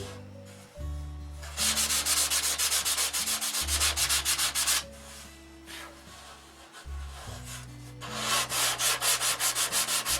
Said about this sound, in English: another full day of sanding, I guess.